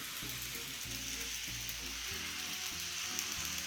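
A Bachmann model train engine hauls a string of slag cars around a Thomas-themed layout, giving a steady mechanical clatter and rhythmic clicking of small wheels and gears, close and continuous with no talking.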